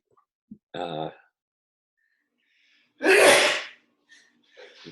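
A single sharp, loud sneeze bursts out, preceded a moment earlier by a short vocal sound, with quiet pauses around it.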